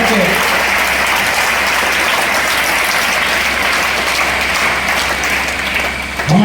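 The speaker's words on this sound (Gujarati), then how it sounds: "સમાજ માટે તાળીનો ગડગડાટ કરજો." An audience at a community speech breaks into sustained, loud applause, many hands clapping in a dense, continuous roar that holds steady and starts to fade near the end.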